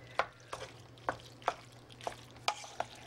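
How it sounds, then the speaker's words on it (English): Noodles are stirred in melting butter in a pan, giving a series of soft, wet scraping strokes at an uneven rhythm over a faint sizzle and low hum, close and fairly quiet. "You just stir that around until the butter melts."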